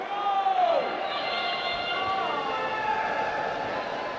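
Crowd cheering and shouting fills an arena as a FIRST Global Challenge robotics match begins, a steady wash of many voices with a whistle-like tone sliding down early on, continuous and fairly loud throughout.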